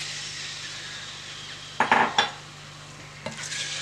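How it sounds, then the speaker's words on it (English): A spoon stirs and scrapes the bottom of a pot of onion soup with dry Pinot Grigio white wine, a few quick scratchy strokes over a soft simmering hiss, then one more brief scrape. "stir this and scrape to get the little stuck caramelized juices on there"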